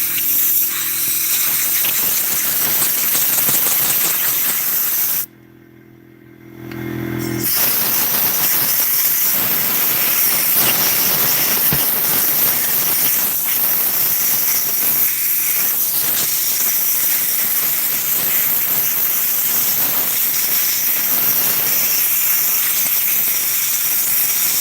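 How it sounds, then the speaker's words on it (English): Loud, continuous hissing spray of brake cleaner blasting gunk off a chainsaw, close up, broken by one short pause before spraying resumes and runs on steadily with small clatters. "how much brake clean we're going to use on it"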